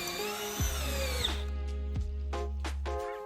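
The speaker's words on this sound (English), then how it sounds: "Here's some small lag screws. Brushless a little bit easier once again." A brushless cordless drill whirs and strains in bursts, motor pitch rising and dropping as it drives small lag screws into wood, close and loud.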